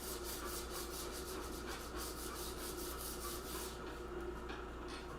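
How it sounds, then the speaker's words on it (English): Steady back-and-forth rasping of 80-grit sandpaper on wood by hand, close and continuous, with regular strokes and no talking. "I'm just starting out by hand sanding with 80 grit."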